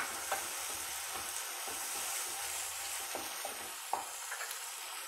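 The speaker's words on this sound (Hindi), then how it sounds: "अब हमारे टमाटर भी कितने अच्छे से भुन रहे हैं" Tomatoes frying in a pan for a capsicum and paneer curry, a soft continuous sizzle with occasional light stirring clicks and spatters, faint and close.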